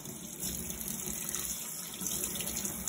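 Water running steadily from a tap while rinsing chrome during detailing, a constant hissing splash at moderate level with no speech over it.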